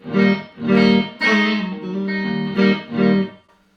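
Electric guitar through a compressor pedal plays a few sustained, evenly leveled chords and notes, each attack squeezed smooth, ringing out alone before fading.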